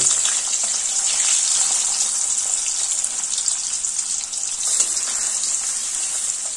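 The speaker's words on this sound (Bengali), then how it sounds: "এবার একটা একটা করে মাছ দিয়ে ভেজে নেব।" Rohu fish pieces frying in hot mustard oil in a wok, a loud, steady hiss and sizzle with no pauses and no voices.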